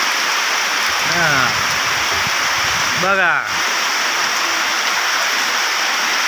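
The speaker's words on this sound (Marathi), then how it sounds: "कस काय पाऊस आहे, बघा मित्रांनो पाऊस" Heavy monsoon rain pours down steadily, a dense, loud hiss that fills the whole stretch. A voice briefly speaks over it twice.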